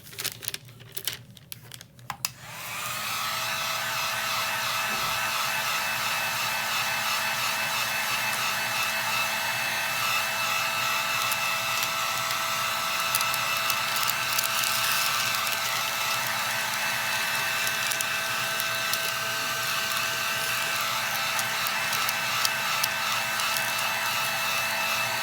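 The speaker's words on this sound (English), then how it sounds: "I'm gonna grab my heat glove and my heat gun, and I'm gonna just shrink this all the way down." A heat gun blows steadily at close range while shrinking wrap onto a tumbler, a constant loud airy roar after a brief burst of handling clicks at the start.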